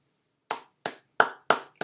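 A single pair of hands claps five times in a fairly even rhythm after a brief silence, each crisp clap close and sharp, with a quiet gap between strikes.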